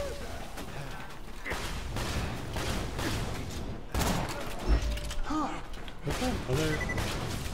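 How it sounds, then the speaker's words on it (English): Enemy gunfire from below in Borderlands 2, repeated bursts of shots and heavy thuds over about seven seconds, with several players talking over the combat. "Someone shooting us from the below?"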